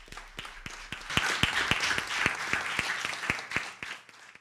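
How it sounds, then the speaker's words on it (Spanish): An audience at a book presentation breaks into a burst of applause, many hands clapping together in a dense, fairly close wash that swells and then tapers off, with no speech over it. "Recibámoslo con un fuerte aplauso."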